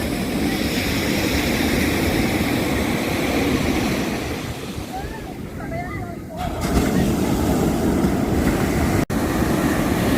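Ocean surf rolls in with a continuous loud roar of breaking waves while people play in the water, a brief lull midway before the wash surges back.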